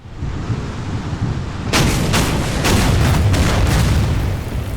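Naval guns from a destroyer firing in the World War II strategy game Order of Battle: several heavy booming blasts arrive in quick succession over a constant low rumble of background battle sound.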